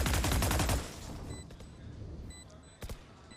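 Pistol fire in a Valorant pro match post-plant round: a rapid burst of close shots at the start, then quieter sparse sounds and a couple of distant pops, with faint game ambience throughout.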